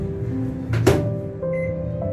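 Samsung microwave oven running at 900 watts with a steady low hum, broken near the start by a brief louder clunk or rattle before the even drone resumes.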